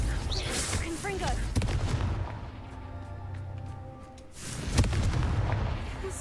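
A fiery Confringo spell in Hogwarts Legacy lands as booming, explosive blasts, loud and dense at first, dipping to a quieter lull, then erupting again with another heavy boom, mixed with busy game effects.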